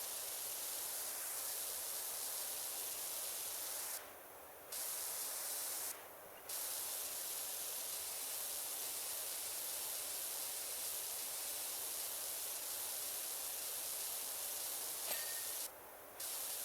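Continuous hiss of a pressure washer spraying in PowerWash Simulator, a steady broad jet with a few brief cut-offs as the trigger is released, heard alone with no talk.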